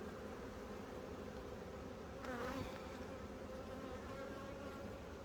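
Honeybees drone in a continuous, soft buzz inside an opened beehive with cross comb, with a brief swell of louder, nearer buzzing partway through.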